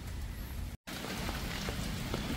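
Steady rain patters and hisses across surfaces, a dense continuous wash of drops with one brief cut of silence partway through.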